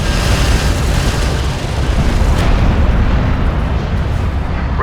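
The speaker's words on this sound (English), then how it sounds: "Armored vehicle is taking fire." An armored vehicle comes under fire in Homeworld Deserts of Kharak, with loud, dense explosions and crackling bursts blending into a continuous heavy roar that tapers slightly near the end.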